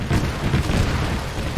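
Continuous heavy, rumbling booms of artillery explosions in the video game Arma 3, a dense loud low roar with no talk over it.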